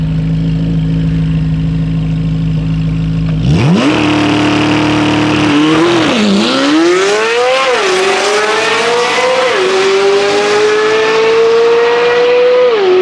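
Corvette Z06 with an aftermarket exhaust and a McLaren supercar drag racing at a car meet: a loud idle burbles, then engines roar hard at launch and climb steadily through several gear shifts, rising pitch sustained over the full run with no talking.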